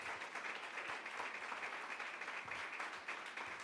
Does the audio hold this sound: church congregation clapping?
yes